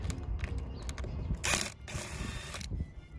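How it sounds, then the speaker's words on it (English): Two set screws come out of an RV slide-out awning, giving a brief run of close, quiet ratcheting clicks and metallic ticks with a short louder burst midway. "now I just take out the two set screws right there."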